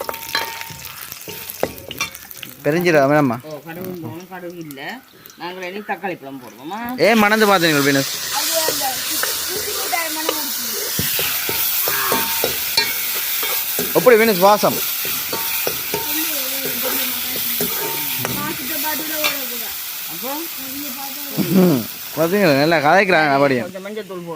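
Garlic fries in a pan with a steady sizzle and hiss, and curry leaves go in with a louder burst of frying, while people talk over the cooking throughout.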